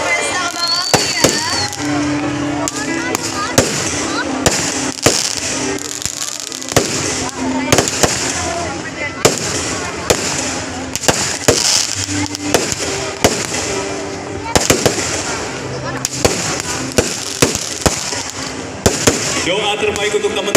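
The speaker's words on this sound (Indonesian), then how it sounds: "Benar-benar pesta kembang api ya." New Year fireworks display in Purbalingga in 2019, with many sharp bursts and crackles going off in irregular succession, some close and loud, as voices carry on underneath.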